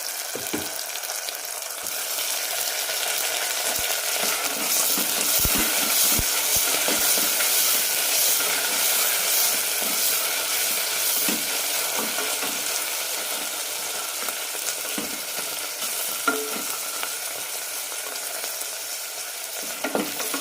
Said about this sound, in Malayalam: തക്കാളി ഇട്ട ശേഷം ഒരു മിനിറ്റ് നന്നായി വഴറ്റിയെടുക്കണം